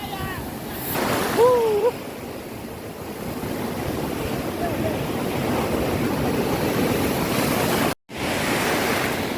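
Ocean surf rolling onto Kuta Beach in Bali, a steady broad wash of breaking waves with wind buffeting the microphone, a brief louder swell early on and a short dropout near the end.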